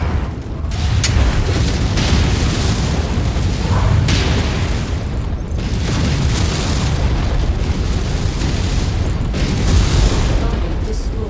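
Heavy booming explosions roll on continuously as a mech target is destroyed in the MechWarrior 5 video game, with dense rumbling blasts and crackling bursts, loud and sustained.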